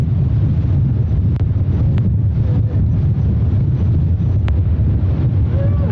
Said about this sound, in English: This first stage burns for a little over 3 minutes